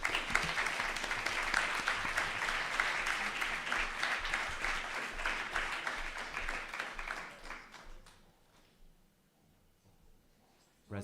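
Applause in a model UN general assembly hall after a resolution passes, a full, dense round of clapping for about eight seconds that then fades out, leaving near silence.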